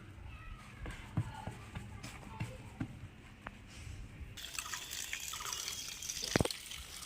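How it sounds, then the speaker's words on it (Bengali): Water splashes and trickles over an adenium plant to rinse soil from its roots. Scattered drips and faint knocks come first, then a steady, louder stream of running water takes over partway through. "ধুয়ে গায়ে যে মাটিটা আছে সেই মাটিটি সম্পূর্ণ উঠানো হবে"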